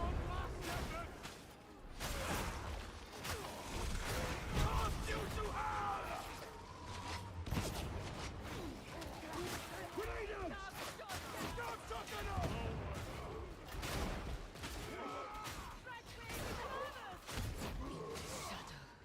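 Grenade blasts and gunfire from a video game firefight pop and thud in rapid, uneven bursts throughout, mixed with a talking voice and dense game noise.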